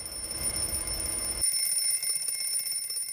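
An alarm clock rings in the morning at home, with steady high-pitched electronic beeping that continues throughout over a low background hum, and no voices.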